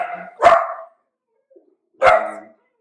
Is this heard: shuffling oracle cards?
no